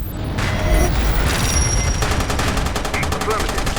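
Rapid gunfire from a shooter video game rattles continuously as a dense, loud stream of shots with booming low end, steady throughout.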